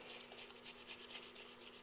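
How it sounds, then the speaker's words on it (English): Very faint, steady sanding across a metal car part being prepped for paint, a soft continuous rasping scrape with a rhythmic back-and-forth pulse. "I'm just sanding this one down as well"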